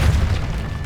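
A Depulso spell blast goes off in Hogwarts Legacy, a single short, deep boom with a heavy low-end thump that quickly fades into a rumbling tail.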